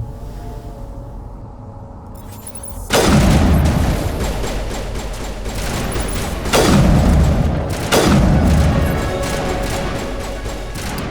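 Grenade detonations in the Mass Effect video game, three heavy booming blasts a few seconds apart, each a sharp loud onset trailing into rumbling debris over continuous game noise.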